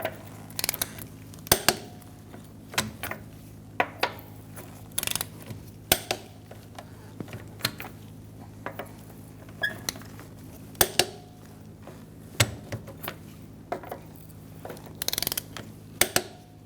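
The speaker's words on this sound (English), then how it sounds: "Using a 21mm socket, we're going to torque our wheels to 80 foot-pounds." A torque wrench with a 21mm socket clicks and ratchets on the wheel nuts of a 2014-2019 Kia Soul, sharp mechanical ticks and clacks in irregular bursts over a quiet room.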